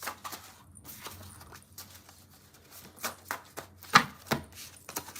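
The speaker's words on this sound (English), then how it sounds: "I'm gonna shuffle 3 more times and read all the cards together." Tarot cards are shuffled by hand close to the microphone, making irregular bursts of crisp riffling, tapping and slapping, with brief quiet gaps and no speech.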